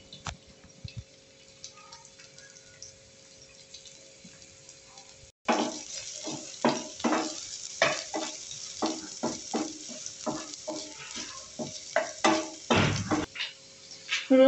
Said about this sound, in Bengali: আমি এই তেলে রসুন কুচিটা দিয়ে দেব। আর আদা কুচিটাও দিয়ে দেব।